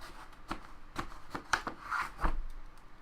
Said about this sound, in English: we got that cut off thanks to our handy dandy pocket knife